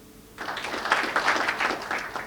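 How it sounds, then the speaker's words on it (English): Audience at an employee engagement panel breaks into steady clapping after a short quiet lead-in, a dense wash of many hands that holds evenly to the end. "Clap if your organization has implemented effective strategies to foster a culture of engagement"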